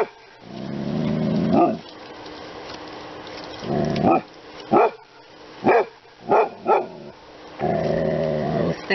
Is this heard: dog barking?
yes